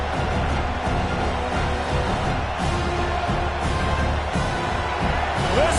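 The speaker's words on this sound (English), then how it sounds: "Listen to this crowd just shaking the girders of this place trying to help their defense" A football stadium crowd roars loudly and steadily, a dense wall of cheering and noise with no break, and speech sits underneath.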